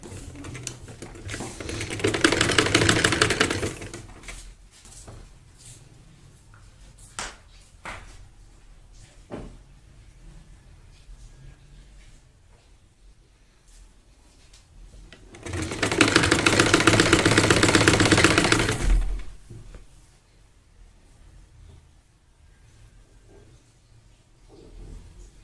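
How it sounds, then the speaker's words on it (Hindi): A sewing machine stitches a dress sleeve cuff in two loud, fast-whirring bursts a few seconds long, separated by a quieter stretch of fabric handling and small clicks. "हम कलाई बाजू की कलाई की सिलाई पहले लगा लेंगे"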